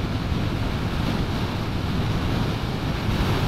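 Strong wind roars steadily against the microphone on a motorcycle riding along a seaside bypass road in the Philippines, a dense, continuous blustery rush with surf-like low rumble and no voices.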